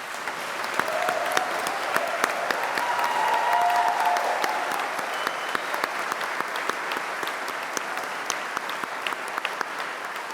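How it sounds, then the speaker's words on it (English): Steady, sustained applause from a large crowd at a University of Greenwich graduation ceremony honouring the graduates, a dense wash of clapping holding for about ten seconds without talk. "give a huge round of applause for the graduates of the University of Greenwich"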